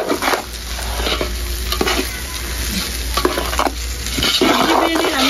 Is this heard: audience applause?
no